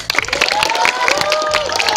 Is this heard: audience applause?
yes